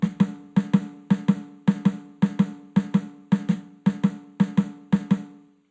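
A Herta drum rudiment tapped by the right hand on a leg gives about ten evenly spaced pairs of quick, close, dry slaps with a flam-like double stroke, alone with no talk.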